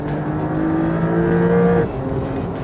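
A Porsche 992 911 sports car accelerates hard, its engine note climbing steadily and loudly up through the gear before dropping off sharply at the shift, heard close from inside the car.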